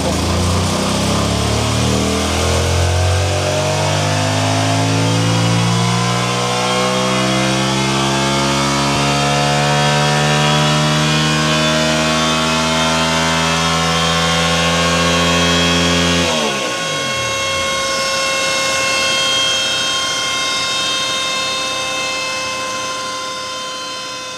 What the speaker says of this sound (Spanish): vamos a ver cómo va esta MT-07 y ya de paso también cómo suena en el banco